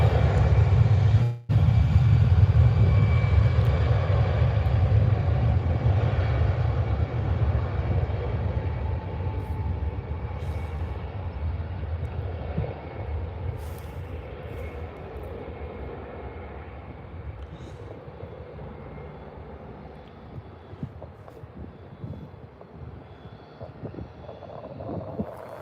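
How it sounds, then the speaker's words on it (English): A Jet2 airliner departs Birmingham airport, its broad low engine roar strong at first and then slowly fading and thinning as it climbs away, with some wind buffeting the microphone. "Sounds like we might have a Jet 2 heading out."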